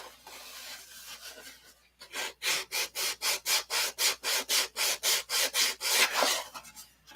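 Heavy-duty sandpaper rubs back and forth across wood in about sixteen even, rhythmic strokes, close and fairly quiet, after a few seconds of near silence.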